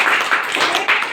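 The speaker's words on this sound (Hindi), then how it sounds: "ताली बजाइए सब" A group of children clapping together in a school classroom, a short burst of loud, close, overlapping claps lasting about a second.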